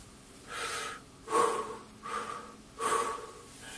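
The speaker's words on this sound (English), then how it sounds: "breathing from the diaphragm helps us get the maximum amount of air to support the voice" Slow diaphragm breathing for voice support, with several deep audible inhalations and exhalations alternating in a steady rhythm, close and fairly loud, with no talking.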